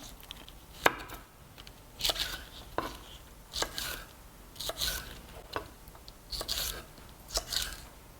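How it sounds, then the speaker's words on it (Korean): A knife chops through the white stem part of napa cabbage on a board, with about eight crisp, separate cuts spaced at an uneven pace, close and clear and with no voices. "배추 하얀 부분 이렇게 잘라서"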